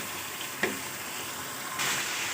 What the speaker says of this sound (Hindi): अब इसके साथ हम इसको अच्छे से भून लेंगे